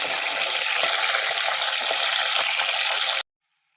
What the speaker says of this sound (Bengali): তেল কিন্তু গরম হয়ে গেছে এবার আমি ফুলকপিগুলো এর মধ্যে ভেজে নেব